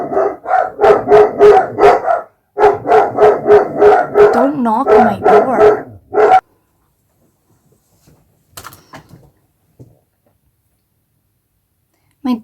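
A dog named Luna barks in rapid repeated bursts, loud and close, two long volleys with a short howl-like whine between, then a few faint thumps and a brief voice.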